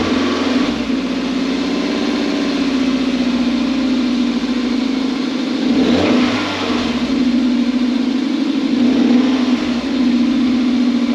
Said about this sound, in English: Janspeed system on a Mark 3 MR2